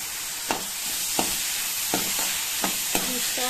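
Sprouted moth beans (matki) being stir-fried in spices in a pan, a soft steady sizzle broken by five sharp, evenly spaced scrapes and clinks of a spoon stirring, close and without talk.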